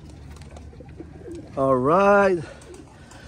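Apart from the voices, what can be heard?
racing pigeons cooing in a loft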